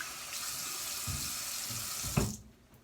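Tap water runs steadily into a sink for rinsing off after a head shave, a close, even hiss with a small splash near the end before it cuts off.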